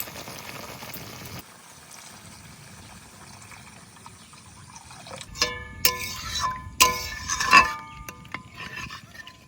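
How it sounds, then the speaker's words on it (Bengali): Water is poured into a pan of hot oil with white and black mustard paste and poppy seed paste in a village kitchen, giving a rising, bubbling sizzle with a few clinks near the end after a quiet start. "এবার জল দিয়ে দেবো।"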